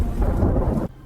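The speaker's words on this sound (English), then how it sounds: "the storm outside sounded stronger than any he had heard before" A blizzard storm rages outside a cabin, a heavy low roar of wind and rumble that stops abruptly, loud and alone.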